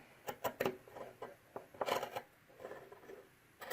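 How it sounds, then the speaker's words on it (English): Scissors snip through felt in short bursts of crisp cutting strokes, close and fairly quiet, with pauses between groups of cuts and no talking. "I'm just using scissors and just going to cut around the felt"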